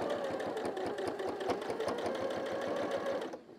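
A sewing machine stitches around the edge of a throw pillow, a close, steady rapid clatter that winds down and stops at the end.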